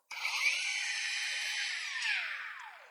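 CAT cordless brushless grinder switched on with soft start, its motor whining up smoothly from silence to a loud steady high-pitched spin, with a slight pitch shift near the end.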